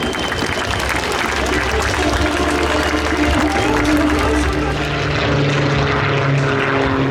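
A Belgian Air Force F-16 fighter jet landing at the 2023 Paris Air Show, giving a loud, steady engine roar with a droning tonal whine that fills the whole clip.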